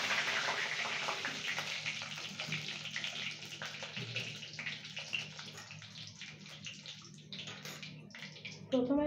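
Panch phoron and dried chillies sizzle in hot oil in a kadai, a continuous crackling hiss with scattered pops that slowly fades a little as it goes on.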